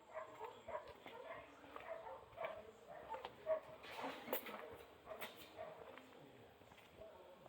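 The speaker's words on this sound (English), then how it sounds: "Dogs are barking." Dogs barking at a distance outdoors by a TimberPro forestry machine being rebuilt, a series of short yips and barks in an uneven rhythm, with occasional thumps and noises nearby.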